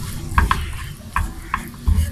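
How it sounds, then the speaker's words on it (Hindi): Flour frying gently in oil over very low heat for a white sauce, a soft sizzle broken by a few crisp scrapes and taps of a spoon stirring in the pan. "बहुत स्लो आग पे मैंने इसे हल्का सा फ्राई करना है, खुशबू आने तक।"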